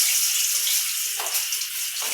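Bay leaves and dried chillies crackle in hot oil while a bottle gourd dish is cooked. The sizzle is a loud, dense hiss with a couple of sharper bursts, heard up close.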